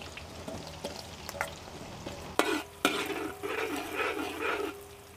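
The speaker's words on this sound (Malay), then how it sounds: "Minyak panas dah turun bawang. Tumis bawang merah saja dulu kak yo." Shallots sautéing in hot oil over a wood-fired stove for duck soup, with scattered clinks of a utensil, then a sharp clatter and a loud continuous sizzle as stirring begins, close by.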